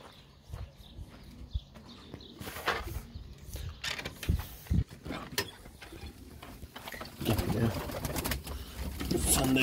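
Çakmaklı pigeons nearby with soft coos and bursts of wing flapping and scuffling, plus scattered knocks and background noise.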